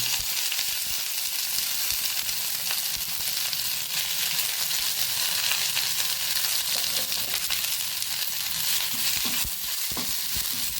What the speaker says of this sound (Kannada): ಇದನ್ನು ಇದರಲ್ಲಿ ಸ್ವಲ್ಪ ಫ್ರೈ ಮಾಡ್ತೇವೆ